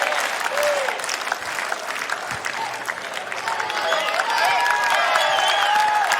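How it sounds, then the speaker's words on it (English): A tennis crowd at a US Open first-round match applauds and cheers loudly after a break of serve, with dense, sustained clapping and shouts that swell toward the end. "And now to hear the crowd get into it."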